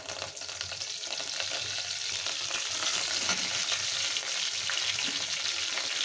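Cinnamon stick, cloves, mustard seeds, cumin and a bay leaf sizzle and crackle steadily in hot oil, a dense, constant frying hiss close by with no voices.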